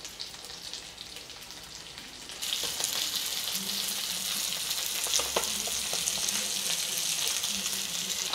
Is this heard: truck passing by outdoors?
no